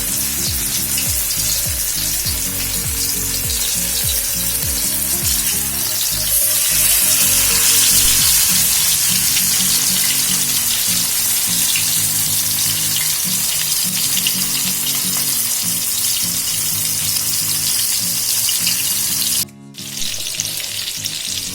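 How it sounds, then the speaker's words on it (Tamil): Sankara fish fries in hot oil on a dosa griddle, giving a steady close sizzle and crackle that runs almost the whole time, with a brief dropout near the end. "தோசைக்கல்ல காய வச்சு எண்ணெய் போட்டு இப்போ நம்ம வறுத்து எடுத்துக்கலாம்."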